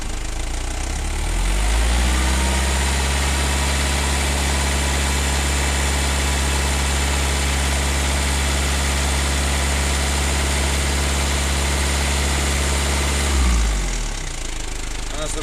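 Mazda Bongo van engine running steadily, its throttle opened gently to about 2000 rpm and held in an even drone before easing back to idle, heard close with a voice talking over it.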